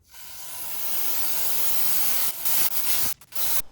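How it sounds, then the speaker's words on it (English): Brake cleaner is sprayed from an aerosol can behind the front brake caliper of a 2018–2021 Subaru WRX STI. A close, steady hiss builds and holds, then breaks into a few short bursts at the end. "We're going to spray a little brake clean behind it."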